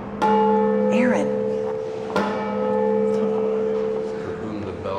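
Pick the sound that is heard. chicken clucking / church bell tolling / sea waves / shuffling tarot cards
church bell tolling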